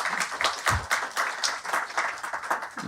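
An audience at a global democracy forum gives a round of applause after an ambassador's address, a fairly soft but continuous patter of scattered hand claps with uneven rhythm, heard alone without voices.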